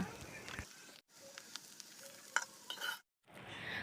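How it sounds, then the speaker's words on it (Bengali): Garden-picked bitter gourd is stir-fried in a pan over low heat. A quiet, close sizzle runs under the scrape of stirring and breaks off twice in brief silences. "আমি কিন্তু করলাগুলো ভেজে নিচ্ছি"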